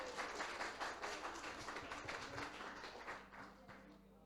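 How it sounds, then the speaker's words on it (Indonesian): Guests at a vow renewal ceremony in a chapel at Royal Santrian clap for the couple, a dense patter of applause that fades slightly toward the end. "Tepuk tangan sekali lagi untuk kedua mempelai kita."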